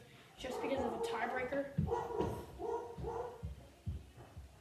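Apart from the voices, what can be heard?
dog barking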